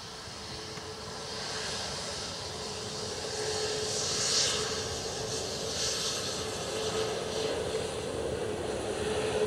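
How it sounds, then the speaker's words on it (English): An Aer Lingus Airbus A320neo coming in to land at Dublin Airport after a flight from Barcelona makes a moderate, distant jet rumble and hiss that swells slightly toward the middle, then holds steady. "Aer Lingus 320neo next to land from Barcelona."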